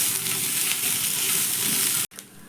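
A frying mixture with chopped coriander and curry leaves being stirred in a pan makes a loud, dense hiss that cuts out abruptly for a moment before resuming more softly.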